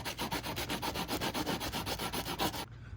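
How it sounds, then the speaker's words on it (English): Sandpaper rubbed back and forth over the grooves of a coolant temperature sensor for a 2006 Honda Odyssey, a steady run of rapid rhythmic scrubbing strokes, close and fairly loud, ending abruptly near the close. "let's get to sanding these grooves."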